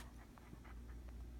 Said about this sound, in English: I'm fighting off a puppy